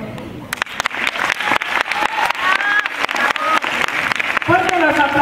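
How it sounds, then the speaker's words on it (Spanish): Audience at a school recitation contest for a Tacna tribute breaks into applause, with bursts of clapping that grow into a sustained, fairly close ovation and a voice briefly audible over it. "Fuerte los aplausos para Luna Nicole Fernanda Guamán Berríos."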